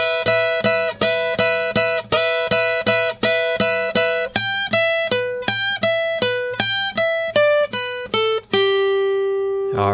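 A blues triplet lick played on electric guitar, a steady run of plucked notes in a triplet rhythm that climbs into held bends and ends on a ringing sustained note, clear and alone.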